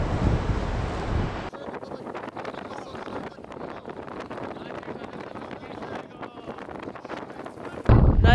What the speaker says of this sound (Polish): Wieje niemiłosiernie.